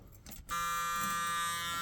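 An old Ford buzzer in a 1983 Ford F150 under restoration sounds a loud, steady electric drone that switches on sharply and holds unbroken to the end, close by, after a moment of soft handling noise.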